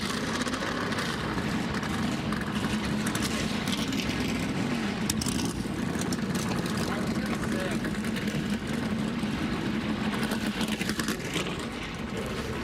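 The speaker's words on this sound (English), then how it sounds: "Drivers, start your engines!" Thirty-six NASCAR stock car engines at the 2023 Pennzoil 400 north of Las Vegas, started together, form a steady, dense roar that holds at an even level throughout without clear individual revs, heard from a distance.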